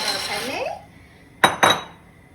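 Two quick rattling clatters of dry penne pasta dropping into a metal pot of boiling salted water, following a stretch of quieter kitchen noise.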